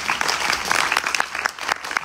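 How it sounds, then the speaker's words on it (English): A crowd at a Ganesh Chaturthi festival applauds, producing a dense burst of clapping from many hands with sharper individual claps popping out of the wash, outdoors-sounding and steady across the short stretch. "Please clap everyone"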